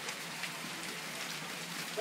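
Steady rain and hail pelting down in a January storm in Fortville, Oklahoma, a dense even hiss of drops striking surfaces, close and continuous with no talking.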